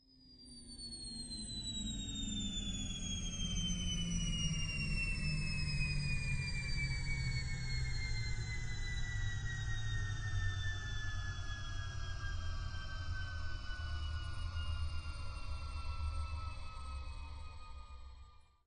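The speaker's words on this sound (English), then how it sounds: "I am hovering the spacecraft so that we can get a good view" A spacecraft's engine hums steadily while it lands and hovers near the Very Large Telescope observatory, a continuous loud drone with slowly falling whistling tones layered above a rumbling low end, sustained without pause and fading at the very end.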